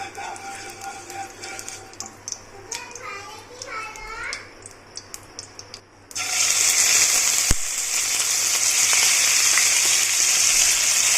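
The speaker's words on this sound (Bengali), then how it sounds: "তেল গরম হলে আমি ম্যারিনেট করে রাখা চিকেনটাকে হালকা" Marinated chicken goes into hot oil about midway, setting off a sudden, loud, sustained sizzle that continues to the end; children's voices chatter close by before it.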